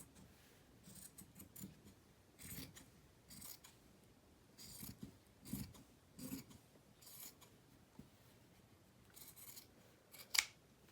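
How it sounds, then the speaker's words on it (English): Scissors snip through the seam of a men's cotton shirt in short, quiet, close cuts at an uneven pace. One sharper clip closes the sequence. "Oh, if I could cut through that seam."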